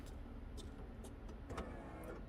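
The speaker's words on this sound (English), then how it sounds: "one of the cool things about these cars and the cars from like the late 80s and early 1990s are the flip-up headlights" Pop-up headlights on a 1990 Eagle Talon flipping up, a quiet whirring electric motor with small mechanical clicks, faint and close, no talking.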